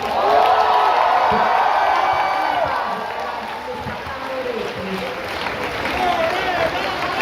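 Large concert crowd at a show at the Pride Village in Padova, cheering and applauding loudly and steadily with whoops, voices mixed into the roar throughout.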